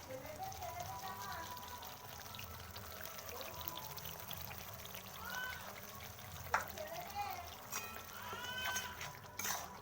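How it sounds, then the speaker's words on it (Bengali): Beaten sour yogurt is poured into a pan of Rui fish rezala, giving a soft wet pour with gentle sizzling and bubbling beneath someone speaking in Bengali. "এরপর আমি দেব টক দই।"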